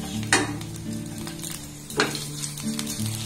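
Chopped garlic, nigella seeds and slit green chilli sizzle in hot oil in a pan, a steady close frying hiss broken by a couple of stirring scrapes and clinks.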